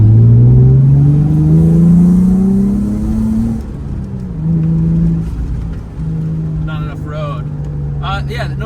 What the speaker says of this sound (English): Let's hear that exhaust all the way throughout the RPM.